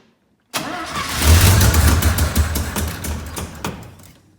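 A truck engine that is cold and has not run in a while cranks and catches, then settles into a loud, rough, rumbling idle that slowly fades, close by with no talk.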